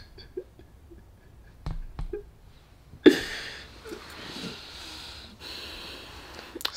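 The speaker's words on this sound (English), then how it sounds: "stop all that heavy breathing" Heavy, noisy breathing close to a phone or microphone, with snort-like bursts and rough exhales, growing into a sustained breathy rush in the second half.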